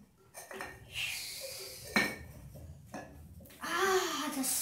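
Paste of ginger being scraped into a cooking pot: a few sharp metallic clinks and scrapes of a spoon against the pot, separated by pauses, with a louder clatter near the end and faint voices in the background.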